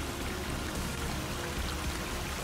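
Flowing water in the survival video game Sons of the Forest: a steady, even rush of streaming water with no breaks, heard alone at moderate volume.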